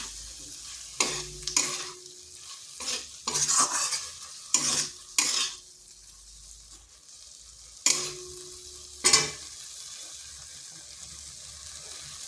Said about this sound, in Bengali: দিয়ে দিচ্ছি ঝিঙ্গাগুলো। ঝিঙ্গাটা 2 মিনিট মতো এইভাবে কষে নিচ্ছি।